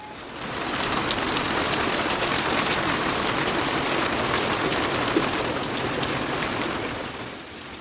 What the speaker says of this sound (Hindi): तो दोस्तों यहाँ पर बारिश जो है शुरू हो चुकी है